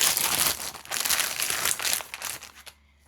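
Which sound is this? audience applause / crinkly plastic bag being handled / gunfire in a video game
crinkly plastic bag being handled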